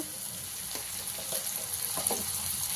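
Ginger garlic paste dropped into hot oil with fresh curry leaves, a steady soft sizzle and frying crackle with faint stirring, close and continuous.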